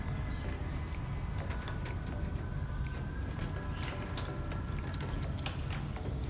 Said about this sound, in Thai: ผมจะทำการหยดน้ำลงบน ฝากระโปรงนะครับ